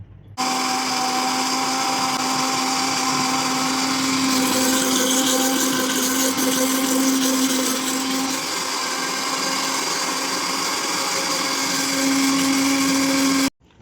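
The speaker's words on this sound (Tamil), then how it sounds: "கொத்தமல்லி கட் பண்ணி மிக்சியில் போட்டு நல்லா அரைச்சிக்கலாம்" A kitchen mixer grinder blends chopped coriander with curd into a paste, its motor whirring loud and steady from start to finish, the pitch shifting slightly partway through before cutting off at the end.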